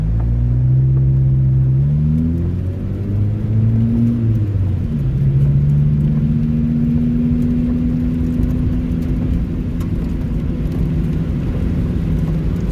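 A car drives at night on high-beam LED headlight bulbs, its steady engine rumble and road noise holding close and even throughout, with low tonal whine shifting in pitch early on and no voices.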